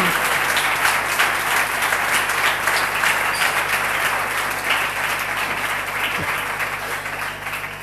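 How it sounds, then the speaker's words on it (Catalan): Dense, sustained applause from a crowd at a Falles literary awards festival in Benimaclet, honouring a tabalet and dolçaina band, continuous and fairly loud, easing slightly toward the end. "Un aplaudiment, no?, per a la colla del Tabarí Dolçaina."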